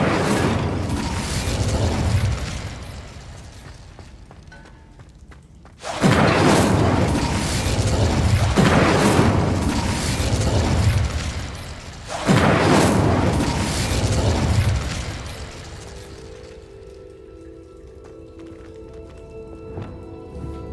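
Fire and explosion spells cast in the video game Hogwarts Legacy, three heavy booming blasts a few seconds apart, each followed by a rumbling crackling decay, then a quieter tonal shimmer at the end.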